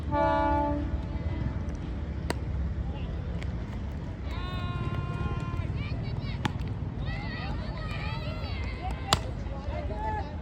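A local train rumbles past Digha station beside a rain-soaked cricket ground, its horn blaring near the start and again midway, with loud, continuous rail noise under shouting voices.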